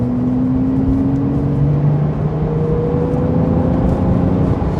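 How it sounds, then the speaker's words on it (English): A 2019 Porsche 911 (992) Carrera S with a turbocharged engine revs in a loud, sustained drone whose pitch climbs steadily, alone and without talk. "How does Porsche produce a turbocharged car that sound like this?"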